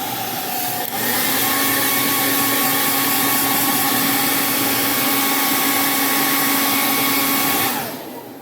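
A hair dryer on low switches on and roars steadily with a high whine for several seconds, drying water off vinyl, then winds down at the end.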